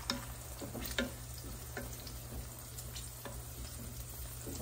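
Eggs fry in a pan as charred tomato salsa goes in, giving a continuous soft sizzle with scattered faint pops and ticks, quiet and close, with no voices.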